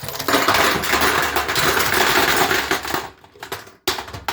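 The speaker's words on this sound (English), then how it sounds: "Tip a bucket of bolts inside it." A bucket of metal bolts tips into a rough-walled fuel tank as a loud, dense rattling clatter. It gradually thins into scattered clinks and then stops sharply, and no one talks.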